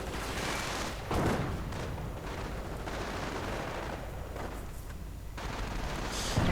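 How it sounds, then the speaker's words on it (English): Mines exploding and rifle fire in a World War II strategy game, heard as dull booms and rumbling gunfire bursts over a continuous battle din, moderately loud and without talk. "mines go off, riflemen die"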